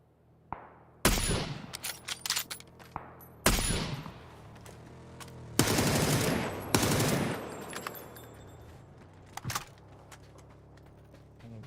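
Video game gunfire: several loud, sharp bursts of rapid shots with short sustained volleys in between, plus scattered single cracks and mechanical clicks, with no talking.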